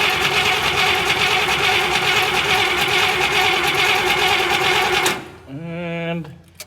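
A 1957 Buick engine with a replacement manifold and welded exhaust crossover is cranked by hand, giving a loud, steady mechanical churn for about five seconds before it cuts off into a brief lower hum.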